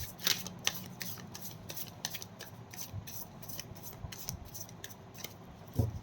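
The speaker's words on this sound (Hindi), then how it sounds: "This is my last shuffle." Tarot cards being shuffled by hand, with a steady soft riffling and rubbing texture and a few sharper snaps near the start and end, close and quiet with no talking.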